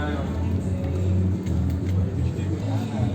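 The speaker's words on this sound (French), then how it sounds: "On monte dans le bus." A bus engine idles with a low, steady rumble and engine hum while a band boards, heard from inside at close range with people talking over it.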